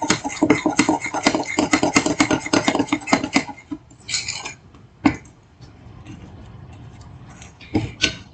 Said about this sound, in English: I'm going to mix this and try to get all the lumps out of there.